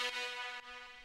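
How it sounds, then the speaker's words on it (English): A crunchy top brass synth patch from a drum and bass drop holds a dense, bright, gritty chord that retriggers a couple of times, loud and continuous with no talk. "And then we add some extra crunch with this top brass."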